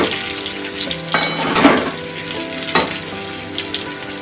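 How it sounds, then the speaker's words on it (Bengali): Mango pieces stir-fried in a pan for sweet-sour mango pickle, giving a steady close sizzle broken by a few sharp scraping clacks of the spoon against the pan. "আমগুলো দিয়ে ভালো করে কষে নেবো।"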